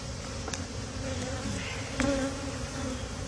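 Honey bees swarm around the hive in a dense, steady hum, with individual bees buzzing close past now and then.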